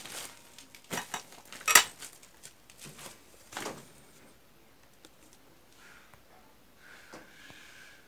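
Metal cover lifted off an agricultural reduction gearbox with three forward gears and one reverse, giving a few sharp clanks and scrapes early on, then quieter rattles and faint handling noise.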